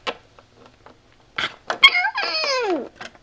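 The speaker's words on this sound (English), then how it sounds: "Whoa, it's a cat." A cat in a cartoon lets out a drawn-out, wavering meow that falls in pitch, close and clear, after a few short scuffling sounds and brief voices.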